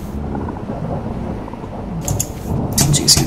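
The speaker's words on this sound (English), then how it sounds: "It's getting a little stormy." A thunderstorm rolls in as a deep, continuous rumble of thunder with steady rain hiss, building toward louder crackling bursts near the end.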